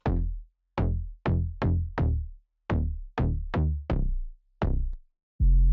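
Soloed synth bass through an MG Low 18 filter set around 77, giving a low punchy tone; about a dozen short, sharply decaying plucked notes in a syncopated pattern, close and dry with no voices.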